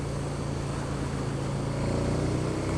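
KTM 1290 Super Duke R motorcycle engine, a steady low rumble with a dense hum and roar, even and fairly loud throughout the short stretch.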